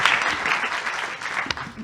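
Audience applause at the close of a conference talk on FGF23 and early renal diet, a steady dense clapping that fills the short stretch at moderate level with no talk over it.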